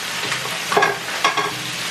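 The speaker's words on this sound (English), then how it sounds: "I'm gonna brown up my lean ground turkey in my third pan over here" Lean ground turkey browns in a pan with a steady sizzle, broken by a couple of louder scraping stirs near the middle and later. The sound is close, and nobody speaks.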